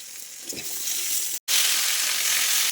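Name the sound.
stirring green jackfruit frying in a pan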